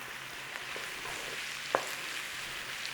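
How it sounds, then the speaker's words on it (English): Butter melts and sizzles in a baking tin with bacon, a steady soft frying hiss throughout and one brief sharp click near the middle. "add a little bit of butter, a good tablespoon in there. Get that melted in"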